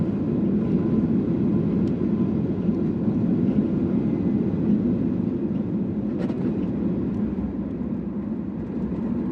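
A Singapore Airlines jet's engine drones steadily in a low, constant roar as the plane lands and taxis at Singapore Changi Airport, heard from inside the cabin with no voices.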